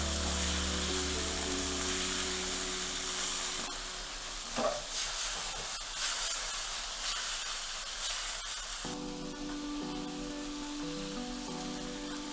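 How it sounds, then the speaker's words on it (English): Beef and garlic sizzle steadily in a hot pan while lomo saltado is cooked, a dense crackling spray that carries on throughout, with brief stirring scrapes partway through. "just a short time before we add in the meat and all of the juices"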